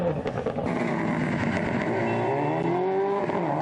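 Subaru rally car on a North West stages rally, engine note rising and falling as the car drives the stage at moderate distance, with a steady mechanical drone throughout and no voices.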